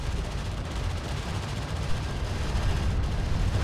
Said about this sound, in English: The sentry post is taking fire.